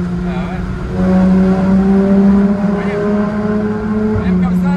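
A Porsche GT3 RS fitted with an IPE exhaust holds a loud, deep, steady drone at around 3500 rpm, close by and dominating, with a brief swell in volume partway through.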